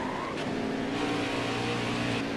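Race car engines in the NASCAR Heat 4 video game drone loudly and continuously in a dense pack, with steady high-revving tones and one car's pitch climbing early.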